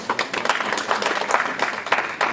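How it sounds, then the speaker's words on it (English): A burst of hand clapping from a group, uneven and lively, with sharp individual claps standing out over a steady patter. "give yourself a big hand clap."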